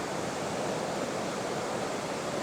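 A waterfall in the Dart Valley on an autumn day gives a steady, loud, broadband rush of falling water with no pauses or voices.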